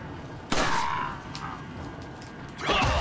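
Two sharp gunshots in the Resident Evil 4 video game, one firing a shot to an enemy's head: a loud crack near the start and another near the end, with a quieter game ambience between them.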